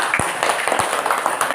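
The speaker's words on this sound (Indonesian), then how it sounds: "tepuk tangan" Students in a classroom give a round of applause: dense, overlapping clapping at close range, loud and continuous, with some crowd murmur mixed in.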